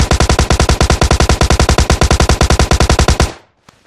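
Sustained automatic gunfire from PUBG Mobile, a rapid, evenly spaced burst of loud shots, roughly eleven per second for over three seconds, then stopping abruptly into near silence.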